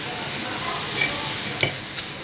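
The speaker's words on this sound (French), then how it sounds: "je laisse le tout cuire pendant une bonne dizaine de minutes à feu moyen, par même feu faible, en mélangeant régulièrement" A filling topped with shrimp cooks in a pan over medium-low heat, giving a continuous, even sizzle with a couple of brief stirring scrapes near the middle and no speech.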